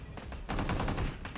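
Rapid automatic gunfire in the mobile battle royale game PUBG Mobile, a quick burst of evenly spaced shots that are loud and close, with no voices.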